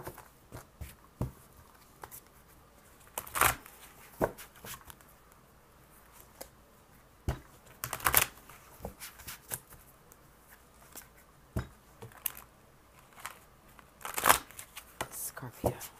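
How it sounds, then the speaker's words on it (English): Tarot cards being shuffled by hand in scattered riffles and soft slaps with quiet stretches between them. The shuffling is close but soft, and its sharpest bursts come at irregular moments. "let me go ahead and shuffle for general"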